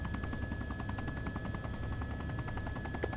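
A helicopter in the military video game Arma 2 gives off a quiet, steady rhythmic rotor chop, a faint pulsing drone throughout with no voices.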